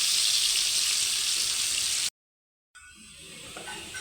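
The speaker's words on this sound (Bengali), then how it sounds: "পেঁয়াজটাকে আমি বাদামি কালার করে ভেজে নিব।" Onions frying in a pan until browned, a steady loud hiss of sizzling oil that cuts out briefly and then resumes slightly softer.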